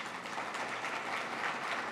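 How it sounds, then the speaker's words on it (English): Audience at a university business plan competition gives a round of applause, soft steady clapping that sounds somewhat distant and fills the short clip. "Everybody, a round of applause."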